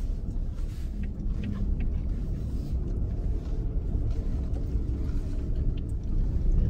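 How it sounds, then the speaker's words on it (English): A pickup truck rolls in four-wheel drive along a snowy road, a steady low engine and tyre rumble heard from inside the cab, loud and continuous with no talk. "I got the truck locked into four-wheel drive."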